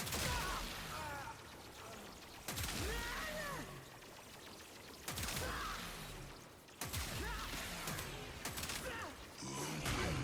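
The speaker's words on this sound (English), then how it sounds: "It's a very pleasing gun to fire, and the sound effects." Secondary weapon in the game Warframe firing in sharp, loud bursts about every two to three seconds, each shot followed by a ringing, mechanical tail, with layered game effects filling the gaps between discharges.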